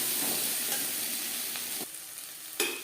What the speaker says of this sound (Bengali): ভালো করে ভাজা হয়ে গেছে দিয়ে দেবো একটা কাঁচা লঙ্কা কুচি